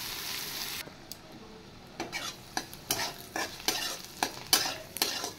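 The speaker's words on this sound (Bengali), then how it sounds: "পেঁয়াজটা একটু ভেজে নেব।" Onion fries in a pan, giving a hissing sizzle broken by repeated sharp scrapes and clicks of a spatula stirring it, close up and growing busier toward the end, with no one speaking.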